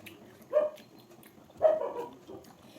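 A dog barks twice, about a second apart, each a short moderately loud bark from close by with quiet background between and no talking.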